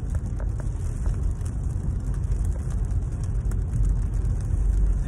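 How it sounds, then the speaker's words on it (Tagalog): Cars driving past on a rain-soaked road in Jeddah during heavy rain, a steady broadband wash of tyre hiss and engine rumble with rain noise, continuous and fairly close throughout. "Tingnan nyo mga idol oh, mga sasakyan."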